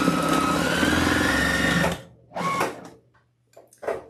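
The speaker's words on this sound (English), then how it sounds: "I'm going to sew that." A sewing machine stitching fabric runs loud and steady for about two seconds, then stops, followed by a few short, separate bursts of machine and handling noise.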